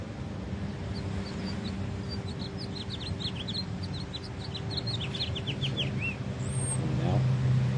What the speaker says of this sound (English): Something calm about being at the beach and hearing the birds.